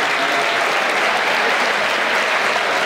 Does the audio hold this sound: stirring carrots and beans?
no